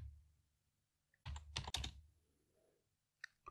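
Keys on a computer keyboard are pressed while a password is entered, a few quiet clustered clicks and taps with pauses between them in a very quiet room.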